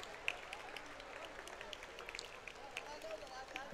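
A crowd claps at an Indian event launching a large social internship program against malnutrition. The applause is sustained and fairly close, with voices murmuring underneath throughout.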